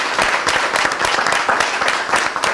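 A television studio audience applauds, a loud, continuous patter of many hands with rapid, dense claps at a steady level and no talk over it.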